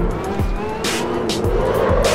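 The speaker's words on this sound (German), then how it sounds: "ihr seht, hier noch ein paar Kurven, Extreme Drifting" A race car drifts through corners in the Assetto Corsa racing game, its tires squealing loudly and continuously over a strained, steady engine roar.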